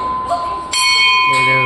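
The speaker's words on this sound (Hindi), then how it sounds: "घंटी बजा दिए।" A temple bell is rung at a busy shrine, its sustained metallic tones ringing out loudly in overlapping strikes while people talk nearby.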